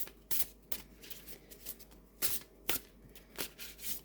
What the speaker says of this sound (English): this does shuffle beautifully